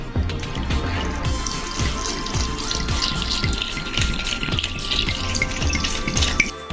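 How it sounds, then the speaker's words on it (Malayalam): Cold water poured into a mixer jar holding pineapple, lime and mint leaves, a steady close trickling splash with a regular pulsing rhythm lasting several seconds, no voices. "ഇനി ഇതിലേക്ക് നമുക്ക് കുറച്ച് തണുത്ത വെള്ളം ചേർത്ത് കൊടുക്കാം"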